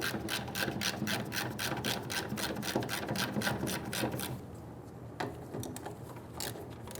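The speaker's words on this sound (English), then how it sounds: "We're going to remove the 5/16 bolts around the top of the fuel pump sending unit" A ratchet wrench clicks rapidly and steadily while loosening 5/16 bolts on the top of a 1994-2004 Ford Mustang fuel pump sending unit, then pauses and resumes with a few scattered clicks.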